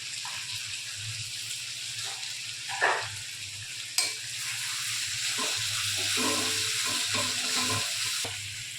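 Ginger-garlic paste sizzles in a pan of reddish-browned fried onions, a steady hiss with scraping stirring and occasional clatter, close and moderately loud, no talking.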